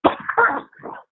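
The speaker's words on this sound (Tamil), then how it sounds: "இன்னும் இருமல்" A person gives a short, close cough made of a few rough bursts that trail off within about a second, with no talking.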